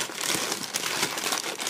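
Parcel packaging being opened slowly and carefully, a steady close-up run of crinkling and rustling with no talk over it.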